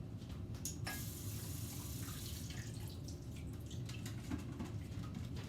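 Blueberries being rinsed under a running kitchen tap, a steady broadband water rush with a brief splashy burst near the start, continuous and close throughout, no talking.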